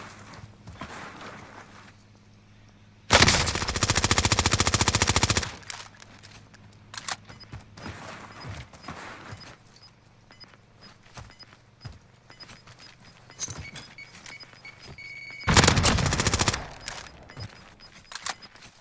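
Gunfire in an online shooter video game comes in two loud bursts of rapid fire, separated by a long stretch of quieter in-game clatter and footsteps.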